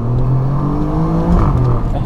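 An Alfa Romeo Giulia Quadrifoglio engine revving, a loud close deep growl with rising and falling tones over about two seconds.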